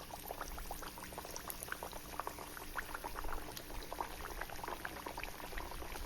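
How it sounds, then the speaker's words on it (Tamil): Thattai rice crackers deep-fry in hot oil with a steady, close bubbling sizzle. Dense crackles and pops continue throughout with no talk over them. "நல்லா காஞ்சிட்ருக்கிற எண்ணெயில் நம்ம தட்டி வச்ச தட்டைகளை போட்டு பொரிச்சு எடுத்துக்கலாம்."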